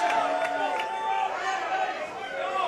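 Wrestlemax STL wrestling crowd cheering and chattering for JDX during his match with Davey Richards, a steady broadband roar of many voices with musical or commentary tones layered over it.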